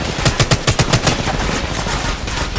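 Rapid automatic gunfire in the Apex Legends Mobile battle royale, a close burst of about a dozen loud shots in quick rhythm followed by fainter sustained firing.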